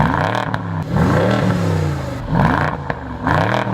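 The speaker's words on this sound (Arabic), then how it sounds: "ده كان صوت العربيه العادي، ودلوقتي بدوس الزرار واحده بس" BMW car engine revving in bursts after a button press, several rising and falling revs with a clattery mechanical edge, loud and close with no talk.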